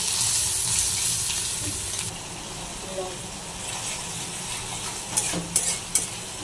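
Spices being stirred and sautéed in a pan, a steady broadband frying sizzle with scraping stirs, louder early and then easing, with a few sharper clinks near the end.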